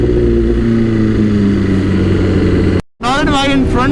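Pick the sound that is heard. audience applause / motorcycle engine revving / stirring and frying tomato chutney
motorcycle engine revving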